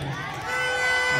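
Festival audience at the Purbi Rukum Mahotsav cheering and clapping, a loud swell of crowd voices and shouts over a brief stretch, near and full.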